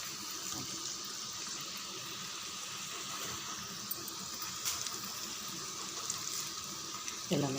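Solam bonda fritters frying in hot oil in a pan, a steady close hiss and sizzle with faint bubbling throughout, a brief clatter near the end.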